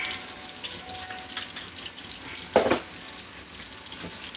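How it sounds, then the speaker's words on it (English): Water running steadily from a home tap, with one brief louder splash as water is emptied out partway through. "let me make sure I get all the water out"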